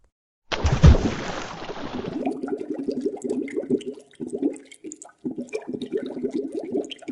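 A person is dunked into water, giving one sudden loud plunging splash followed by several seconds of continuous close sloshing and bubbling agitation, with brief pauses between bursts.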